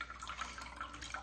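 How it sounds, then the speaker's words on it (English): Water dripping and trickling from squeezed cauliflower, a faint, close patter of small drips running continuously with no voices. "I'm squeezing the cauliflower, Robbie."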